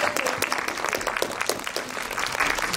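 An audience at a film talk event for the Korean movie You're My Sunshine breaks into applause. The clapping is full and even and runs throughout at a steady level.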